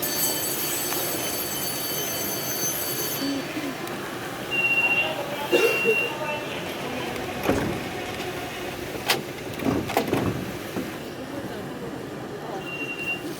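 A Beijing subway train pulling into Tiantongyuan South station, with steady rolling rumble and interior noise, a brief high squeal, and a few louder clunks toward the middle as it slows.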